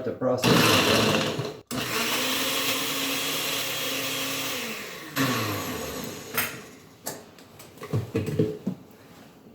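A kitchen blender whirs making a snack, a loud motor drone that cuts out briefly, pitches down and stops, followed by clattering and handling sounds, with a voice speaking at points.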